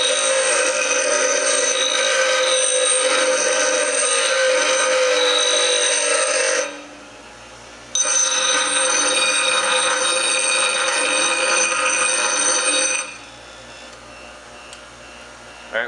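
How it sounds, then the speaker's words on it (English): A grinder abrades a battered steel Crosby hook, giving a loud, steady, harsh grinding whine that runs about seven seconds, breaks off briefly, then resumes for several more seconds before stopping. "So what I'm going to do is I'm just going to take it against the grinder."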